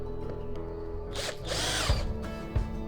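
A power drill whirs as it drives self-tapping screws into a mounting plate, with a short run-up followed by a louder, sustained burst of drilling and a couple of sharp knocks.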